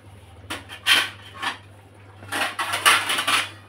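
A cooking pot is covered with its lid in a Bengali home kitchen: a series of close metallic clinks and clatters, irregular and fairly loud, over a low steady hum.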